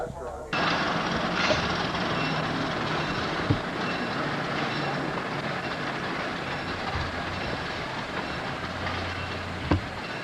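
A train, including a former Rock Island Al Capone car, rolls past at the Illinois Railway Museum in 1996, a loud, steady rumble with wheel clicks and occasional sharp knocks that carries on for the whole stretch.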